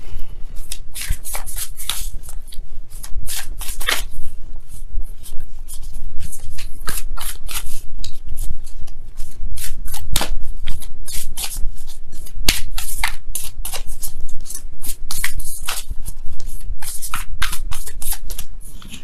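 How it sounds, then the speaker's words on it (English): Tarot cards are shuffled loudly and close up, a continuous rapid riffling and flicking that keeps going for the whole stretch with sharp crisp slaps throughout and no talking. "let me go ahead and really shuffle."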